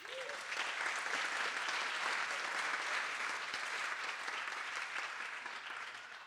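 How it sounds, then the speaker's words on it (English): Wedding guests at Stonefields Estate in Carleton Place applaud the newlyweds, a steady, full round of clapping that holds evenly from start to finish with no voices over it. "I'd like to give another round of applause to the newlyweds"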